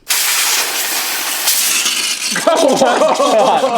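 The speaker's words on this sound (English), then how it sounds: "we have compressed air, Will." Compressed air blasting onto truck exhaust parts, a loud, continuous close hiss that shifts partway through as someone speaks over it.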